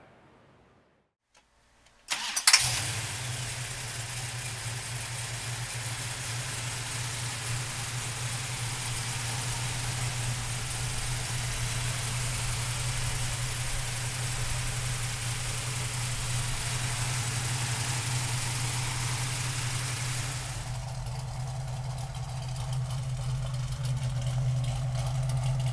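A 1971 Plymouth Cuda recreation with a 440 six-pack V8 fires up after a moment of silence, catching with a loud burst and then settling into a steady, rumbling idle that holds close and constant.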